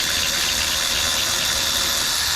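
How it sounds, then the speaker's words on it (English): A Milwaukee power ratchet spins out an alternator bolt on a 2015 Chevy Impala, a loud, close, continuous high whirring buzz with no pauses and no talking. "now I got it removing it with my Milwaukee ratchet"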